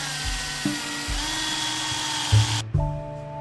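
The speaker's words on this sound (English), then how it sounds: "Just need to drill an extra hole for the tie." A power drill bores an extra hole through a metal fuel-line bracket from the driver's side of a 100 Series Land Cruiser, a steady whining tone with short bursts and pauses as the bit bites, fairly close and unaccompanied by talk.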